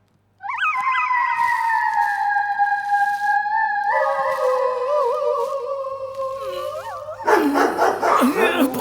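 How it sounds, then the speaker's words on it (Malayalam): A dog close by gives long, drawn-out howling cries, then breaks into a burst of harsher, rougher barks near the end. "പണ്ടാറടക്കിയ നായ"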